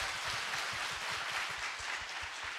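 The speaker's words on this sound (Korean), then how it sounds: "박수 한번 부탁드릴게요" A church concert audience claps together, likely keeping time with a beat, as a broad, even wash of many hands with faint low thumps pulsing steadily beneath it, continuing evenly throughout.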